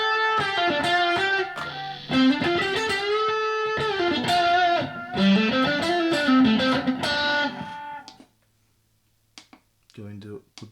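An electric guitar through a Blackstar ID:Core 40 amp on a high-gain setting plays loud, distorted chords and sustained notes for about eight seconds, then drops to near silence with a few faint plucks at the end.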